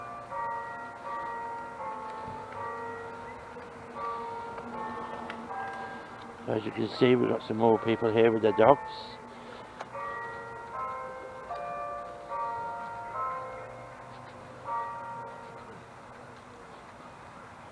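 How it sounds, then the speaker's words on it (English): Church bells ring in a town park, a burst of bright overlapping peals for a couple of seconds, with someone talking over the park's ambient noise before and after. "in the background you can hear the church bells"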